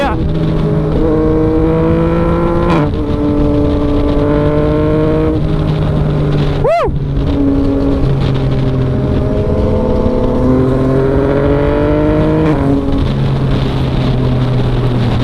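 A Yamaha MT-09 motorcycle with traction control switched off accelerates hard on a track, its loud engine pitch climbing and snapping down with each quickshifter gear change, several shifts in a row amid wind rush.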